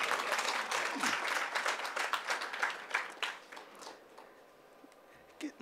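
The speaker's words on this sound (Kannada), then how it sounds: "ಇವರು ಇನ್ನೊಂದು ಸತಿ ಚಪ್ಪಾಳೆ ಹೊಡೀರಿ ಅವ್ರಿಗೆ" An audience gives a musician a sustained round of applause, dense clapping that swells and then tapers away, with a brief burst again at the end.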